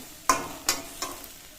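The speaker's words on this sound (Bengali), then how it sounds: "একটু গরম জল দিয়ে দিলাম" Hot water hits a frying pan of green bananas with three sharp sizzling bursts, each fading quickly, spaced under a second apart and heard close with no talking.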